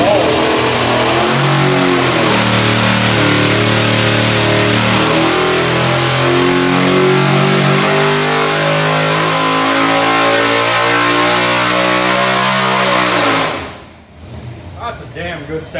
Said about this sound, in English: That is a good sounding motor.